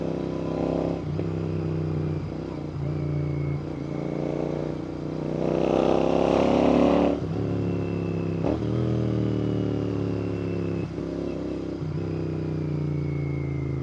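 A Royal Enfield GT650 motorcycle with an aftermarket exhaust is ridden at a steady, throaty engine drone, swelling briefly as the revs rise midway before settling again. No one speaks.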